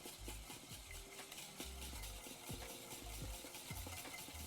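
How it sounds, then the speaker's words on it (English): Egg yolk being whisked with butter for bacon eggs Benedict, giving a steady run of light clinking and scraping strokes over a constant low hum in the kitchen. "So now we whisk our yolk with that."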